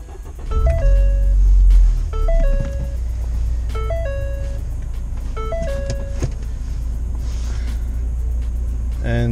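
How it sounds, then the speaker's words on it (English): A Ford Fiesta ST's engine turns over with a deep rumble and then settles into a steady low idle. A short electronic warning chime repeats several times over the engine noise from inside the car. "So let me just start the car."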